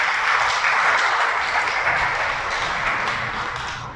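A church audience breaks into dense, loud, sustained applause during a sermon, a continuous wash of many hands that holds steady and eases slightly toward the end.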